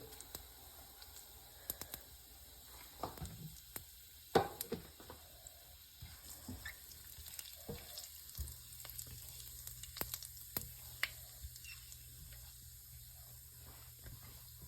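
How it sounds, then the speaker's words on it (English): Cumin seeds dropped into hot oil for a coconut pepper curry sizzle and crackle faintly and steadily, with occasional pops and light stirring knocks, and no talking. "Oil is ready. Now add cumin seed."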